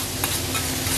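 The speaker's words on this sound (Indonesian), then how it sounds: "Dan dagingnya digoreng terus sampai" Minced meat frying with chili in a pan for Hong Kong–style mapo tofu: continuous close, loud sizzling hiss with brief scraping stirs, steady throughout, no talk.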